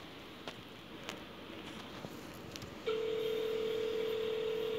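Phone tones while calling an airline on a borrowed handset: a few faint clicks and taps, then a loud steady tone starts partway through and continues unbroken, close and alone.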